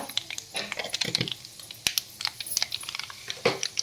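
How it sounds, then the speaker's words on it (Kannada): Mustard seeds spluttering in hot oil for a tempering, rapid irregular crackles and pops scattered throughout at close range, with no voices. "ಸಾಸಿವೆ ಹಾಕ್ತಾ ಇದ್ದೀನಿ"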